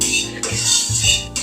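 A metal wok (karai) is set on a stove and handled for vegetable cooking. A few sharp metallic clanks and scrapes ring out close by, separated by short pauses.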